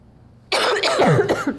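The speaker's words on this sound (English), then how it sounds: "I try to hold back a cough when I cough in the video" A single harsh, close cough bursts out after a short silence, rasping for about a second with a couple of rough pulses.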